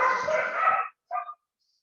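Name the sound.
dogs barking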